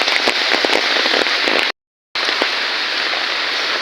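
Heavy rain pours down steadily on surfaces nearby, a dense loud hiss with scattered drop hits, briefly cut to silence midway before resuming.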